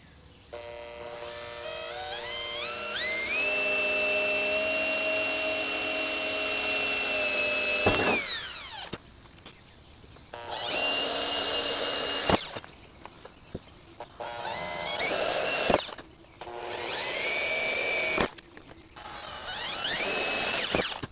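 A power drill whines loudly in several bursts, pitch climbing as it bites, then stopping abruptly between runs; a close, high mechanical grinding through the metal hatch of a Porsche 987.2.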